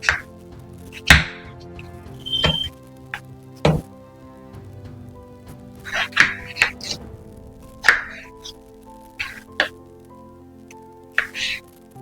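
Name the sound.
chopping peeled onion finely with a knife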